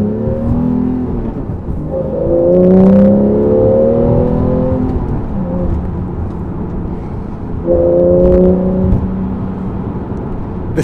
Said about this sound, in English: That engine noise, I don't know if this mic can pick it up, but it's so good.